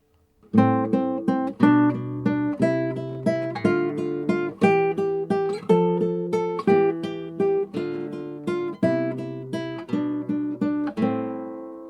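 Fingerpicked guitar in Congolese style, thumb playing steady bass quarter notes under rippling finger triplets in tenths, each pluck crisp and decaying, played alone and close.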